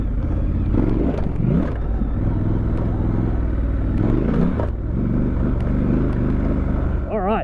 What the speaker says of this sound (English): It's a big bike off-road, much like your kind of Tiger 1200, your GS 1200.